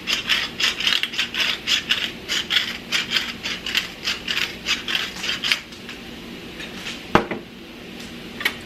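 Sriracha shrimp with soy sauce and pepper stirred in a pan, a steady rhythmic scraping and clinking of utensil on cookware repeating about twice a second, then easing into a quieter sizzle with one sharp knock.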